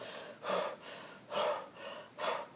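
A voice imitates heavy, ghostly breathing: four slow, rasping breaths in a steady rhythm, each swelling and fading. Close, fairly quiet and alone, with no words spoken.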